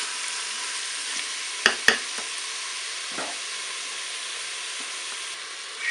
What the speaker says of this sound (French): On va les faire dorer un petit peu aussi.